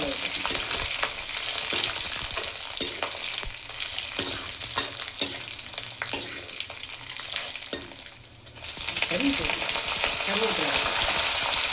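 Dried red chilies sputter in hot oil for tamarind rice, a steady close sizzle with scattered crackles and stirring scrapes that surges louder near the end, no voice heard.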